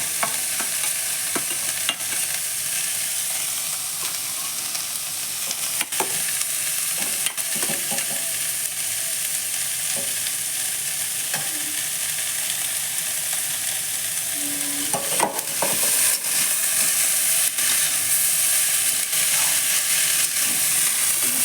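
Fried potatoes dropped back into a hot pan for a cauliflower-stalk dish, a continuous loud frying sizzle with occasional clicks and stirring knocks, no talk throughout.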